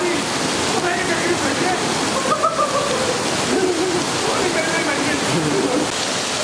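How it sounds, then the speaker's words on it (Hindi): A steady, full roar of heavily falling water from a large waterfall, Noori or Umbrella Waterfall, fills the clip, with faint voices drifting underneath. "यहाँ बहुत बड़ा ऊपर से अबशार आ रहा है"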